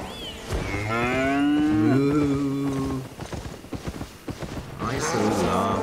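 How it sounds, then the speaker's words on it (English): Cattle moo in the video game Albion Online, several long drawn-out lowing calls in the first half, followed by clattering hoof-like steps and another moo near the end, fairly loud with no talk. "I so love the mooing."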